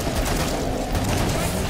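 Big gun firing in Killing Floor 2 on PS4: a dense, loud burst of rapid gunfire and booming blasts fills the whole short stretch, close and continuous.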